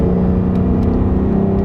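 A V6 Ford Mustang engine holds a steady, loud droning hum while driven hard through turns, a close, continuous rumble with no talking.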